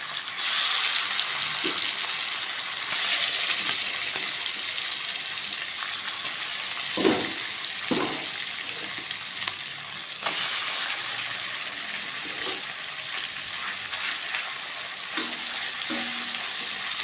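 Manthal fish frying in a pan, a loud continuous close sizzle with occasional soft clinks and scraping from stirring, no talking.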